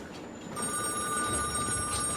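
An old-fashioned red wall-mounted emergency telephone in a tunnel rings, its bell buzzing steadily and moderately loud over a low background rumble.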